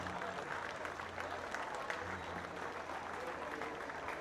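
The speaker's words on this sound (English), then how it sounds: "Can we have a huge round of applause for these two great gentlemen?" Crowd applause at an Australian football senior finals day in Townsville, greeting two men inducted into a hall of fame; steady, moderately quiet clapping from many hands, continuous throughout.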